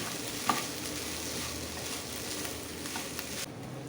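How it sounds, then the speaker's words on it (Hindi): Chicken and ketchup stirred together in a hot pan, with a continuous close sizzle and a sharp utensil clink near the start followed by light scraping. "अब हम इसके अंदर 4 टेबलस्पून केचप डाल देंगे। इसे मिक्स कर लेंगे"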